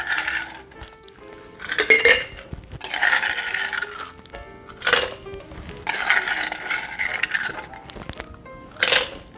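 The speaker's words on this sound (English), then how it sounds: "We'll add some ice." Ice cubes clink and rattle in bursts as they drop into a strawberry mango margarita, a few sharp clattering pours separated by brief pauses, close and fairly loud with no talking.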